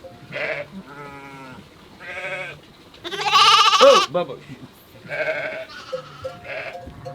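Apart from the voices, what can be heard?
lambs bleating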